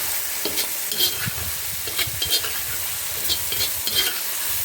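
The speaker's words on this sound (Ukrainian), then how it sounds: "Дивіться, наші грибочки майже вже обсмажились." Mushrooms frying in a pan for a mushroom noodle soup, a soft continuous sizzle broken by repeated stirring scrapes and small bursts, close and moderate in level.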